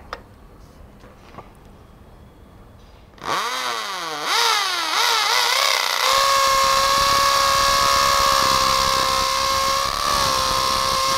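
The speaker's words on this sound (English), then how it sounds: "So we drill a 8 mm hole" A Bosch GSB 500 RE corded impact drill in hammer mode drills an 8 mm hole. After a quiet start, its motor kicks in loudly, whines up in pitch and then holds a steady, harsh grinding drone to the end.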